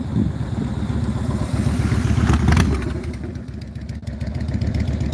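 A 2002 Yamaha Warrior 1700 V-twin muscle cruiser runs close by with a deep, lumpy idle, briefly rising in a short rev before settling back to a steady throbbing rumble.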